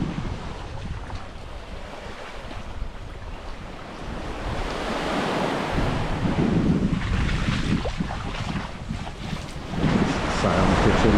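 Surf washes onto Klong Kloi Beach on Koh Chang, Thailand, with a soft, steady rush of waves under heavy wind buffeting the microphone, swelling louder toward the end.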